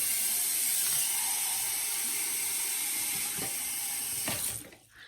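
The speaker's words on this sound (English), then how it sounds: "I then fill it about this much with about lukewarm water." Lukewarm tap water runs steadily from a faucet into a water flosser reservoir, a continuous hissing splash that stops abruptly near the end, with no talk.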